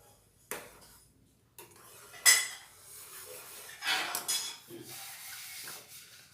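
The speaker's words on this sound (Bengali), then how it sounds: "নাড়াচাড়া করে ভালোভাবে মিশিয়ে নেব।" Chhena being stirred and mixed with saffron threads and cardamom powder in a pan, with quiet scraping strokes and a few sharp metallic clinks of a spoon against the pan, coming in short separate bursts.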